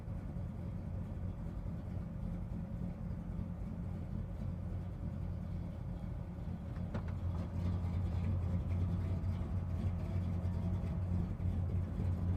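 A 1966 Chevelle with a 525 hp big block engine driving on the road, a low steady engine drone and road rumble heard from inside, swelling slightly louder partway through.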